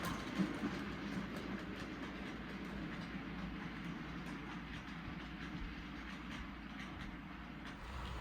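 A steady rumbling model train runs along the track, with faint rhythmic clicks over a continuous low mechanical drone, fairly quiet and unbroken.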